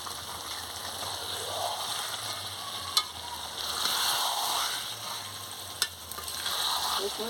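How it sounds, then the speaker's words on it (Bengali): Chicken curry meat sizzles steadily in a frying pan while being stirred, a constant close frying hiss with soft scraping and two sharp clinks of the utensil against the pan, with no talking. "ভালো করে মাংসটাকে ভালো করে নাড়িয়ে নিচ্ছি"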